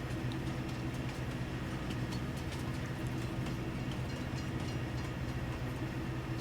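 Freight train rumbling along the rails in Farming Simulator 22, a steady, dense low rolling drone with faint clicks above, continuous and unbroken for the whole stretch, with no voices.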